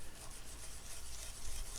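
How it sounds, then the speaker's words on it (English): A gray Scotch-Brite pad rubs over the wipe-on poly finish of a Gibson ES-165 guitar body, a soft, steady, hissy scrubbing close by with no talk. "Every 2 hours I hit it with the gray Scotch-Brite pad"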